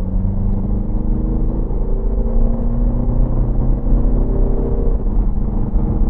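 A Mercedes-Benz GLA 200 CDI 4Matic diesel with a 7G-DCT gearbox kicks down from seventh gear. A steady, loud, low engine rumble and drone inside the cabin holds under faint rising tones as it accelerates.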